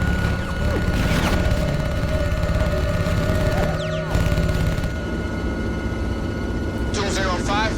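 Anti-aircraft gunfire in a war movie aimed at jet fighters near a bridge on the Chinese side, heard as booming blasts and rumble mixed with aircraft noise and radio voices.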